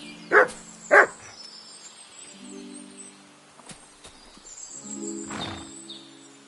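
Two sharp barks from Mutt, the dog in the game Kingdom Come: Deliverance II, ring out close together early on, then low rumbling game ambience with a soft growling or whining tone toward the end.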